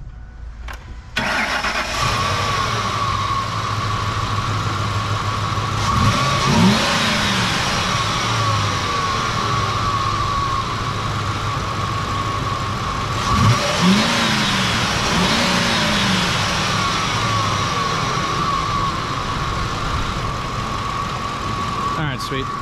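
A truck engine cranks and catches, then runs steadily at a loud, close idle for the whole stretch, with two brief revs rising and falling partway through; the truck had earlier died from no fuel with P0174 and P0191 fault codes.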